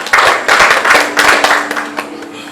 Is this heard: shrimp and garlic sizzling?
no